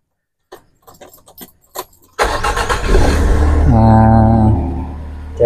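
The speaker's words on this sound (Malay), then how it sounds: "Kita cuba start hidupkan enjin." Car engine starting on a vehicle with an overheating problem: a few faint clicks and key sounds, then the starter cranks and the engine catches into a steady idle, close by.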